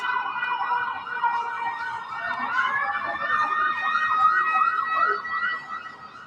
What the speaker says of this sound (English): you missed the ambulance